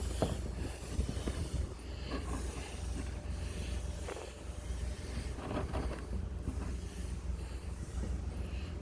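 Outdoor wind buffets the microphone in gusty, uneven bursts, a low rumbling roar with brief louder swells and no talk.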